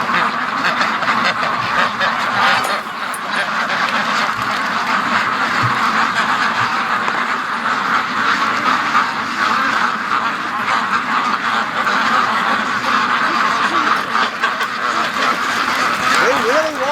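A flock of free-range ducks quacks continuously and noisily close by, a dense overlapping chorus of calls with occasional louder honks throughout.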